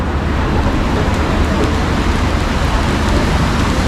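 Another car ploughs through a waterlogged street in pouring rain; constant splashing and rain hiss hold at an even, fairly loud level for the whole stretch.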